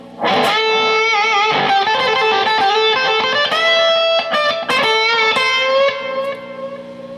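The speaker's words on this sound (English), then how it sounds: "Some delay." A fuzzy, overdriven electric guitar through a Six String Effects Carbonator fuzz pedal with delay plays a melodic line with echoing repeats trailing each note, loud and steady throughout with no voices.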